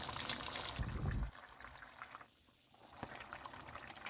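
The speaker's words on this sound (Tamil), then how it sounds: "நான் ஒரு 3 கப் தண்ணி தான் இப்போ ஊற்றுறேன்." Faint splashing of about three cups of water poured into a pot of chicken for biryani, a short gurgling burst, then quiet trickling and a light knock.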